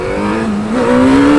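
A car engine revved with lightly feathered throttle, holding a steady, close, loud drone that climbs slightly in pitch toward the end, alone without speech.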